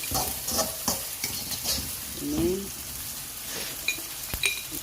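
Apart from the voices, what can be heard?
fried rice being reheated and stirred in a pan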